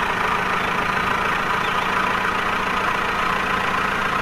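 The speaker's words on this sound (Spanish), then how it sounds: "Tengo un tractor amarillo, que es lo que se lleva ahora." A yellow tractor's engine in the woodcutting game Woodcutter Simulator 2013, a steady loud idling rumble with a constant dense drone and no change in pitch throughout, with no one talking.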